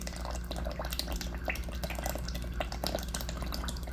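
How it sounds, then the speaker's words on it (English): Buttermilk poured from a carton into a mixing bowl for cornbread batter, a steady close liquid trickle and splashing with small drip-like spatters throughout. "You want to add 1 cup of buttermilk to this."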